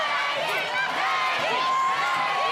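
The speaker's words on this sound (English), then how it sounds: "And listen to the crowd chanting her name." Crowd cheering and chanting a competitor's name during an American Ninja Warrior qualifying run in Kansas City, a continuous loud roar with rising shouts, heard under a commentator's voice.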